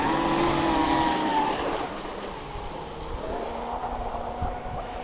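Steady engine drone of a motorboat running out on the water, mixed with wash and splashing, loud and continuous throughout with a slight dip in intensity midway.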